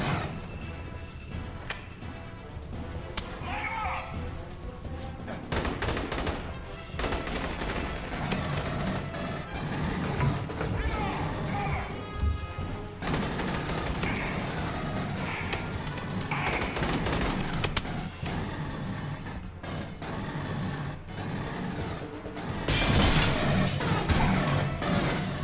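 Turret fire in the Aliens: Colonial Marines video game, a steady barrage of repeated shots and crashing impacts that runs throughout at a fairly even loudness, growing heavier near the end.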